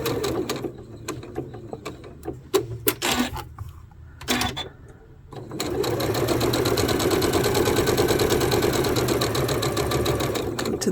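Sewing machine running a quarter-inch seam around a quilting block of half-square triangles, starting with a few short clicks and bursts, then settling into a steady, loud, continuous whirr of stitching for the rest.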